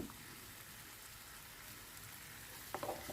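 Vegetable fried rice without chicken or prawn, seasoned with Maggi masala, soy, oyster and tomato sauces, sizzles faintly in a pan as it is stirred, a steady low hiss with a few brief scraping clicks near the end.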